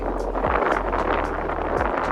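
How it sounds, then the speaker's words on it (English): Strong wind in Estepona buffets the microphone continuously, a loud rushing roar with low rumbling gusts throughout. "It's very windy."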